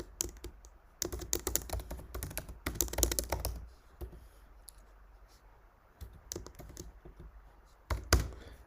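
Fast, close clicking of a computer keyboard as code is typed, coming in dense bursts with short pauses and a final flurry of keystrokes.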